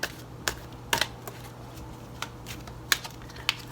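Soft, crisp snaps of tarot cards being shuffled come in scattered bursts, quiet and close, with near silence in between.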